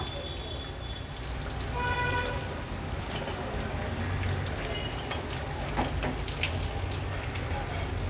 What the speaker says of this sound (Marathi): उरलेले वडे देखील मी असेच तळून घेणार आहे